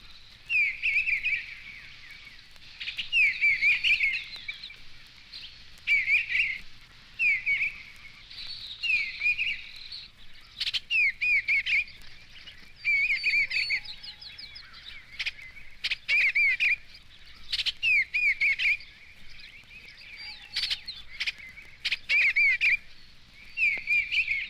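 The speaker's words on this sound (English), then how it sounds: "A rather indefinite warble now comes from the plaintive voice of the bluebird." Bluebird warbling soft, indefinite phrases that repeat in short bursts with brief pauses, fairly close and clear against a quiet outdoor background, with no talking.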